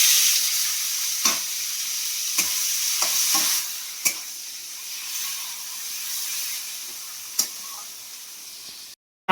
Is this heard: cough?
no